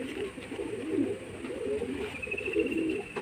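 Old-line Madras pigeons at a home loft coo softly and continuously, low murmuring calls layered over one another with a faint higher chirp partway through, no talking.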